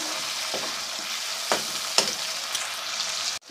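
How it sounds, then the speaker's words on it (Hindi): Onions frying with garlic-ginger paste for a potato dish crackle in a pan, with a spoon stirring and tapping a few times over the steady sizzle, close up with no speech. "अब हम इसमें शामिल करते हैं लहसुन अदरक का पेस्ट"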